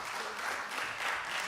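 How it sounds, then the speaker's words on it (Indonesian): Audience applause in an Indonesian parliamentary Commission III working session, a short steady burst of clapping from a room of people, moderately loud. "Kita kasih tepuk tangan."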